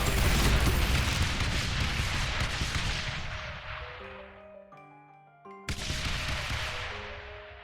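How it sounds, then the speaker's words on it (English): Mortar fire in the tower-defense game Rogue Tower: a dense, continuous barrage of booming blasts that briefly drops out to tonal game chimes before resuming loud. "That's a lot of mortar going on."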